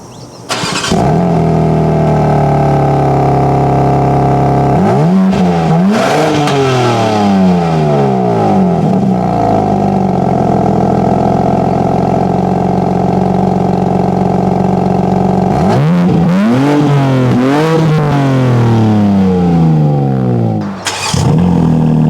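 A BMW M4's exhaust, loud and close, idling low and then revved hard several times, each rise climbing steeply before dropping back to a steady rumble, with a final sharp blip near the end.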